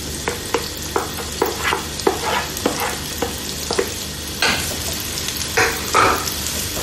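Sliced onion sautéing in butter for cauliflower mac and cheese, stirred with a utensil: a steady close sizzle broken by repeated scraping strokes and clacks against the pan, with no one talking.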